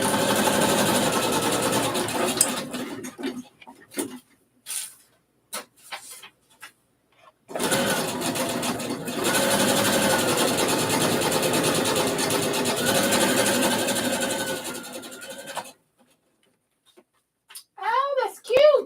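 A small home sewing machine running special decorative stitches, heard close in short start-stop bursts and one longer steady whirring run, with brief quiet gaps between.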